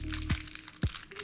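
The cellophane packet of a GoPro battery is torn open, with two sharp crackling crinkles of plastic close to the microphone amid quieter rustling.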